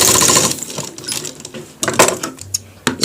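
A sewing machine runs in a close, rattling burst while stitching a shirt collar with white thread, then stops and starts in short mechanical clatters.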